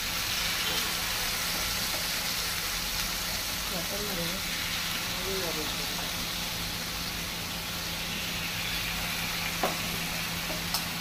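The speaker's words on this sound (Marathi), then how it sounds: "हे बरें सारखे एकदम क्रिस्पी जायसर दोन्ही सायड ताका भाजून घेवपाचें" Chicken cafreal pieces frying crisp on both sides in a pan, an even, loud sizzle running throughout with soft voice traces beneath it.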